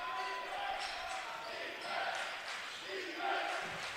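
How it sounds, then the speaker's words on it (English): Home crowd at a college men's basketball game, MNU against Clarke, roaring and cheering for the Pioneers, a dense, fluctuating wash of voices swelling in waves with occasional shouts. "Crowd getting loud here for the Pioneers"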